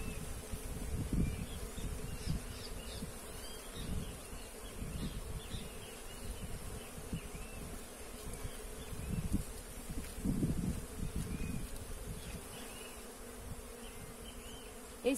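A honeybee swarm living in a tree in a city, inspected at the hive, giving a steady close buzzing drone with occasional louder passes of individual bees near the microphone.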